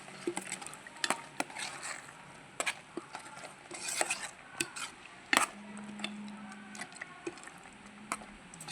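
A spoon clinks and scrapes against a pot while stirring payasam, a sweet rice pudding, with scattered sharp taps and light scraping at close range, fairly quiet overall.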